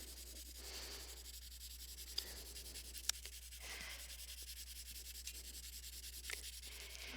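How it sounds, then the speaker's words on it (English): Colored pencil laid down in a layer on paper, a faint dry scratching rub in short repeated strokes with brief pauses, close and quiet. "I'm going to put a layer of color pencil underneath of it."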